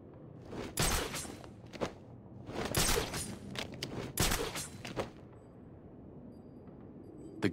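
Batman Arkham City gunfire crackles in repeated loud bursts and single shots over several seconds, fading to a quieter rumble with faint clinks and thuds toward the end.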